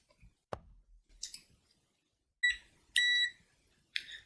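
Short electronic beeps from a continuity check on the soldering of a drilled, repaired motherboard, following an earlier sharp click; two clear tonal beeps sound close and fairly loud with quiet gaps between, and no one speaks.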